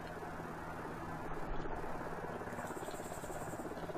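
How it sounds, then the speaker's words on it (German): A helicopter in a military video game thrums steadily with a low rhythmic rotor chop under engine buzz, fairly loud and continuous, with no talk over it. "Helikopter."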